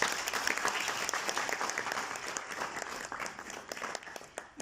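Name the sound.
audience applause after introducing a speaker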